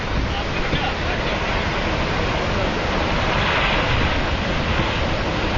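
Fast-flowing floodwater rushing through the Kanchan Ganga area near Badrinath in India, a loud, steady broadband roar lasting throughout with no breaks.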